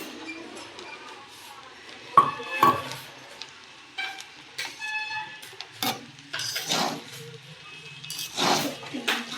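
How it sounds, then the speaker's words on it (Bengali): Cooked rice for fried rice being stirred slowly in a pan with ghee, giving scattered clinks and scrapes of a utensil against the pan, fairly close and quiet, with gaps between strokes. "ভাতটাকে আস্তে আস্তে নাড়তে হবে যাতে ভেঙে না যায়"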